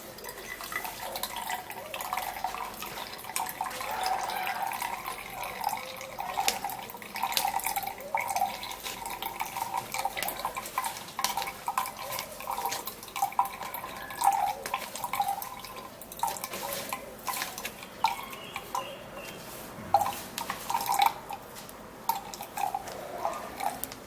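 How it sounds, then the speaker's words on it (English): Blended mixture poured into a kitchen strainer, with steady trickling and dripping of liquid through the mesh and occasional light clinks of utensils, continuous and moderately quiet throughout. "so just pour that into"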